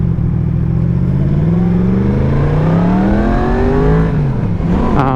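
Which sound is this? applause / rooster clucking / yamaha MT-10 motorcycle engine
yamaha MT-10 motorcycle engine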